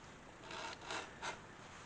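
Leather edge beveler shaving along the edge of an ammo bag flap: faint, close scraping strokes, a few brief rasps swelling over a soft hiss.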